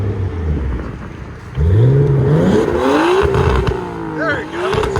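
A 1989 Nissan Skyline Type-M with a high flow converter idles, then revs hard in several rising pulls, loud and close, its pitch climbing and dropping, with a voice briefly heard over it.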